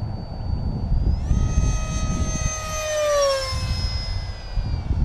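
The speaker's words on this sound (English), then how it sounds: "Now I'll do a low level, high speed flyby." A Parkzone Habu 70mm electric ducted-fan model jet makes a low, high-speed flyby, its whine rising then sweeping sharply down in pitch as it passes close overhead, over steady outdoor wind rumble.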